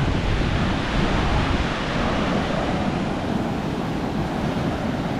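Rough sea surf breaks continuously at Columbus Bay beach in southern Trinidad, a loud, broad roar of churning water with wind buffeting the microphone and no voices.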